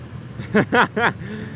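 A Honda SCL500 motorcycle engine gives three quick rising-and-falling revs while accelerating, each a short tonal burst, close and fairly loud over low background noise.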